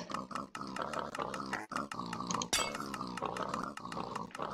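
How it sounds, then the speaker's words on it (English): Cartoon-style pig oinks and grunts as a bunch of toy pigs are dispensed from a pig cannon, short repeated bursts in a quick, choppy rhythm with a sharp click midway. "So now there's a bunch of pigs that are being dispensed."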